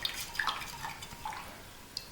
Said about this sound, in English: I'm going to go ahead and mix some salt into that warm water